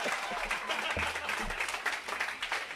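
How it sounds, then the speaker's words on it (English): Crowd applause at a Cinco de Mayo parade and park celebration, quiet and somewhat distant scattered clapping with a few louder low thumps mixed in. "So give me a round of applause."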